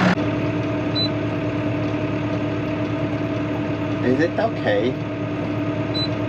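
A Massey Ferguson tractor engine drones steadily from inside the glass cab during sunflower planting, a constant low hum throughout with a voice speaking briefly over it.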